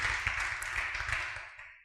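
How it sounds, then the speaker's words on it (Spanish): A church congregation at a Spanish-language service applauds together, a dense, steady wash of many hands clapping close by that softens toward the end. "Vamos a dar un aplauso al Señor"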